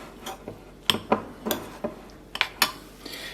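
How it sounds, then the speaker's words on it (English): A utensil stirs a Gruyere cheese and milk mixture in a bowl, producing a series of sharp clinks and scrapes against the dish, irregular and close, with no talking. "From here, we will stir this together"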